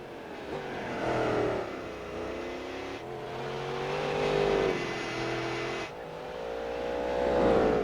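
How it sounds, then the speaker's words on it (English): A supercharged car engine in Gran Turismo 4 revs up and settles repeatedly, its rising tone carrying a high supercharger whine over the roar, fairly close and loud. "You really hear like the supercharger whine."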